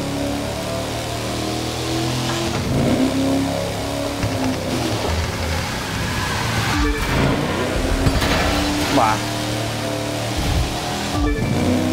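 A Ford Mustang's engine in the racing video game The Crew 2 revs loud and close, rising and falling through the gears in a sustained droning roar with brief dips between shifts.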